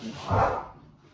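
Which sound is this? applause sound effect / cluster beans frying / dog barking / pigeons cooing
dog barking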